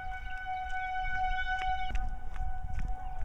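A steady, droning tornado warning siren wails in the distance in Kansas over low wind rumble, with scattered faint clicks and knocks nearby.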